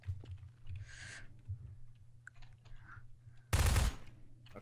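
Bursts of gunfire in a Trouble in Terrorist Town video game round, scattered faint shots followed by one loud rapid burst near the end, with keyboard clicks in the background.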